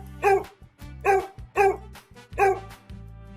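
A dog barks four times in a steady, evenly spaced rhythm, each bark loud and close with clear voiced tone and no talking.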